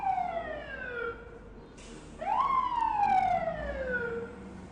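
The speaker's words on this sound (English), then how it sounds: "Yeah, it sounds like a fire truck." A fire truck siren passes nearby on the street, its loud wail sweeping down in pitch, breaking off briefly, then rising sharply and falling again over a low traffic rumble.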